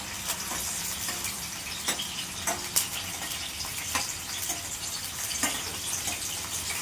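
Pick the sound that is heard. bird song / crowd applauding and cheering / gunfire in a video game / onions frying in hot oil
onions frying in hot oil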